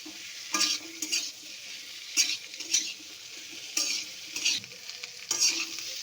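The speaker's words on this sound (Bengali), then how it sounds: "তো এবার মশলাটার মধ্যে আমি দিয়ে দিলাম কাঁঠালের দানাগুলো, দিয়ে আমি একটু ভালো করে কষিয়ে নেব মিনিট 2 মতো।" Jackfruit seeds being stirred and fried in spice paste, with a low steady sizzle broken by repeated bursts of scraping and stirring at an uneven rhythm, close by, with no talk.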